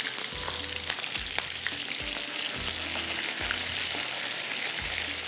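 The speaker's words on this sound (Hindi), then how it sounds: "ये फ्राई हो रहे हैं।" Dry fruits fry in hot oil with a steady, close crackling sizzle, broken by a few soft knocks as they are moved around the pan.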